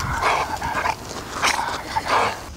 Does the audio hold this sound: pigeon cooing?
no